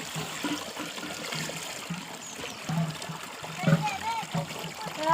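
Water trickles and splashes into a bucket at a village water-filling spot, gurgling unevenly up close while voices murmur in the background.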